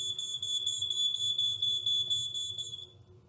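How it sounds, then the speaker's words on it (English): A household smoke alarm, triggered with its test button, gives a shrill continuous high-pitched beep lasting about three seconds before cutting off, loud and alone with no voices. "press the test button for 2 or 3 seconds and then release it. And this will activate the alarm to sound."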